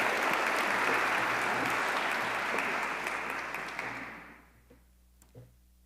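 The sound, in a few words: audience applause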